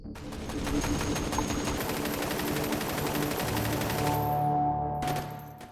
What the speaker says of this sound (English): gun is a handheld version of the 50 caliber Browning M2 machine gun